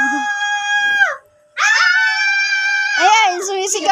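A high, piercing scream rings out indoors, one long sustained cry that breaks off for a moment and then resumes, wavering and climbing toward the end.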